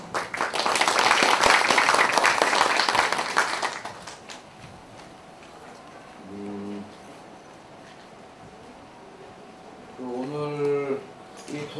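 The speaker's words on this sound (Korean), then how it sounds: "박수로 환영해 주십시오." An audience at a Jeju energy forum applauds to welcome a speaker with a dense round of clapping that fades after about four seconds, followed by quiet room tone and brief speech.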